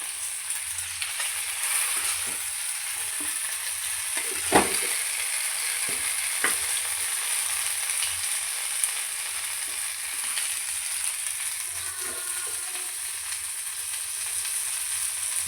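Fish fries in a pan with a soft, continuous sizzle and scattered light clicks and taps from turning or stirring, including one sharper knock midway, with no voices.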